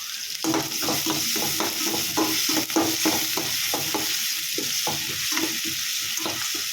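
Onions and moong dal are stirred in a hot pan, giving a steady frying sizzle broken by regular scraping strokes of a spoon, close and fairly quiet, with no talk.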